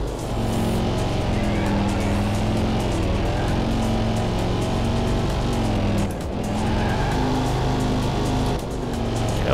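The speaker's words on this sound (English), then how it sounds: "That was not a needed downshift." Corvette engine in a circuit endurance racing video game at Pacific Straits, revving hard and steadily with gear changes and a brief dip during a downshift, accompanied by tire squeal, loud and continuous throughout.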